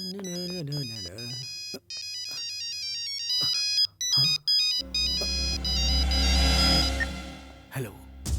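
A mobile phone ringtone plays a bright, melodic tune loudly and close by. It runs for several seconds and then cuts off abruptly.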